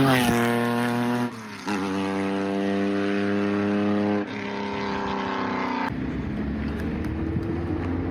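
A car with a cutout valve bypassing its twin mufflers idles and revs, producing a loud, raw exhaust drone that steps up and down in pitch as the throttle changes, with brief dips between revs.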